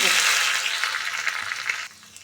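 Crushed garlic drops into hot oil already holding mustard seeds and cumin for a South Indian tempering, giving a loud, steady crackling sizzle that fades slightly near the end, with no talking.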